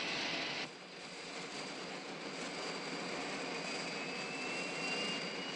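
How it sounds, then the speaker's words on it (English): A jet airplane roars overhead, a continuous broad rushing drone with a steady high whine, loud and unbroken throughout. "that plane travels 600 miles an hour"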